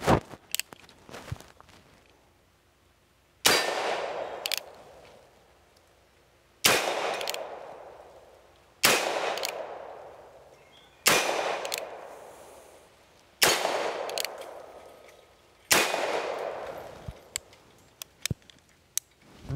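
An Uberti 1873 Cattleman single-action revolver in .45 Long Colt firing 250-grain rounds: six loud, sharp shots spaced a few seconds apart, each with a long echoing decay, likely outdoors, with faint clicks and handling between them.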